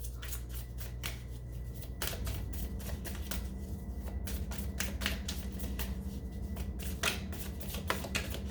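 Tarot cards being shuffled by hand give a steady run of crisp riffling snaps and paper flutters, close and continuous, with no talking.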